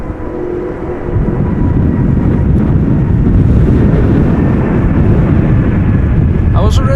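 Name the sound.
airliner passing overhead at Schiphol Airport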